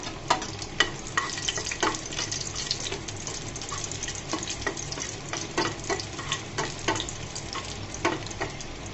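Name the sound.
torn dried red chillies frying in oil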